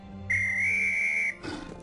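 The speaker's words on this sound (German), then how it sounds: "Oder dann pfeif ihn mal her." In the game Dark Parables, a single steady whistle tone holds for about a second, clear and close, followed by a brief rustling sound.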